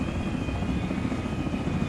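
A helicopter in a video game thrums steadily, loud and close, with a constant rotor drone and no speech.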